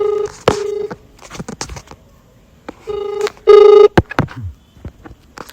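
A telephone call is placed: a string of short dialing beeps sounds close and loud, then repeated ringing bursts with short gaps between them, with no voices.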